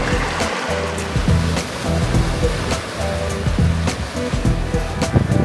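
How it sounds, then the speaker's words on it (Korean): Waves on Khargas Lake in Mongolia lap against the shore like sea surf, a steady rushing wash with repeated splashes, close and continuous. "바다 물결처럼 파도가 불립니다."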